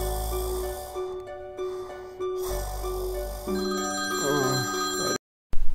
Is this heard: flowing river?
no